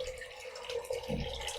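Simulated rain runs off a demonstration model, a faint, steady trickle of flowing and dripping water heard up close with no talking.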